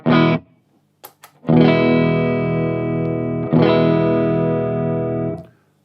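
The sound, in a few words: electric guitar through 100 m cable without tc electronic BONAFIDE buffer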